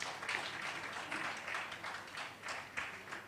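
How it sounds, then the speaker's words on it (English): Convention audience applauding in a hall, a steady wash of many hands clapping at moderate level throughout, heard from a distance without any talk over it. "let's give them another round of applause"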